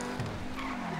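A Progen T20 supercar in GTA 5 drifts, its tires squealing in a sustained skid over the engine note in one brief loud burst.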